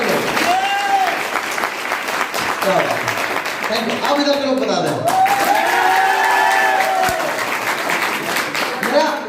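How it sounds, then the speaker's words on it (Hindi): Audience applause at a gathering fills the room, a steady broad wash of clapping running under someone speaking on a microphone throughout. "ताली बजा के बता सकते हैं खुश हैं?"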